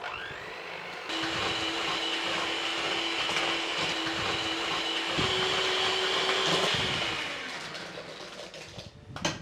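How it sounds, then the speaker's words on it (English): Electric mixer creaming sugar with butter or margarine for a Madeira cake, a steady loud whirring drone that starts abruptly, holds for several seconds with a slight pitch shift, then winds down. "And we need to cream it together."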